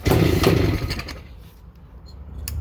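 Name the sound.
1975 Suzuki T500 motorcycle engine running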